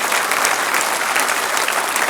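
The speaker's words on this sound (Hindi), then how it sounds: "जोरदार चाउना मीन जी के लिए तालियां बजावें" Steady, dense applause from an audience at a foundation event honouring a guest, broad and continuous for the whole stretch without a break.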